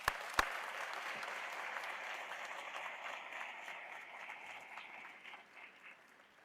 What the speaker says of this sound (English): Can we give Jill a little round of applause?